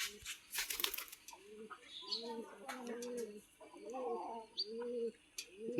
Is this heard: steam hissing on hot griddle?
no